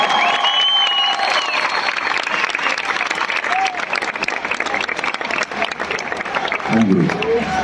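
Dense, sustained applause from a large concert audience at a show in Portimão, continuous clapping and some cheering filling the whole stretch, with a voice briefly heard over the crowd.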